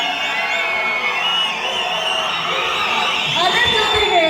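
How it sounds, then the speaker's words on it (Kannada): A large crowd at a film pre-release event whistles and cheers, shrill whistles and whoops rising over a continuous roar of voices, swelling louder near the end. "ಬರೀ ವಿಸಿಲ್ ಬರೀ ವಿಸಿಲ್."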